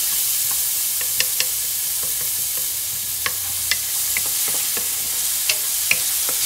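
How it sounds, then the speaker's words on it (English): Onion and garlic sautéing in a pot for Haitian soup joumou, a steady soft sizzle with occasional light clicks and stirring taps scattered throughout, close and moderately quiet, with no talking. "so we're gonna let this saute"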